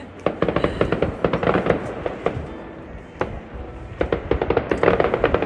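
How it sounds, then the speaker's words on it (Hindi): Firecrackers crackle and pop in rapid, uneven bursts, with several sharper bangs standing out from a continuous stream of smaller snaps. "हमारे आने की खुशी में पटाखे बज रहे हैं।"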